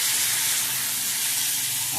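Potol (pointed gourd), potato and drumstick pieces frying in a pan for a homestyle chorchori, giving a steady, close, even sizzle and hiss that runs unbroken throughout.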